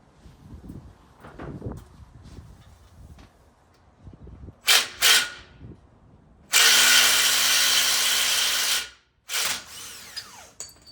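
A power tool, likely an impact gun, rattles through short bursts, then one long loud run of several seconds, removing worn shock absorbers from a truck axle during a six-inch lift build on a Ford Excursion. A little talk comes before.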